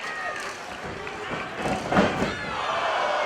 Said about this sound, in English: La Huera Loca getting this crowd behind her now.